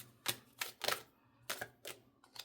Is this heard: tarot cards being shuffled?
yes